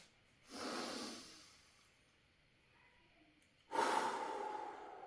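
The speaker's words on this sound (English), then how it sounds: "let's do a deep breath together. Focus on breathing into your belly, your lower stomach." Two slow, deep breaths drawn into the belly, each a long airy inhale or exhale through the nose, close and clear, separated by a quiet pause.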